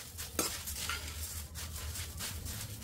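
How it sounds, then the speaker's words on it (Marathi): Chivda snack being stirred and mixed in a pan, with steady scraping and rustling of dry flakes against metal and a sharp clink near the start, close and continuous with no talk. "आता याला व्यवस्थित एकजीव करून घेऊ।"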